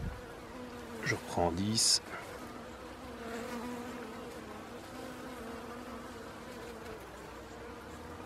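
Honeybees buzz around the hive during a cold 5-degree oxalic acid treatment, a low continuous hum after a brief burst of handling noise and a short spoken phrase near the start.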